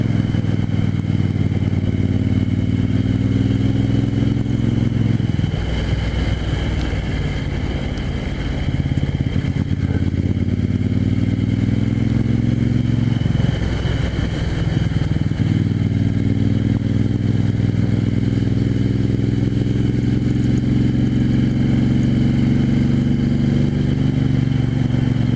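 A 1974 Moto Guzzi 750S engine drones loudly and steadily while being ridden, its deep throbbing note briefly dipping and rising as the revs shift, with no talk over it.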